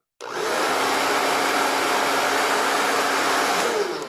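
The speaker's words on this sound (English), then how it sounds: "So this is the lowest fan setting." An iTeraCare device's fan running on its lowest setting, a loud, steady whooshing hum that starts abruptly and holds constant, close and with no talking.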